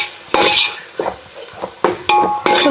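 Chilli powder, biryani masala and garam masala are stirred together in a pan with a metal spoon, giving sharp, separate scrapes and clinks against the pan with brief gaps and a faint sizzle underneath.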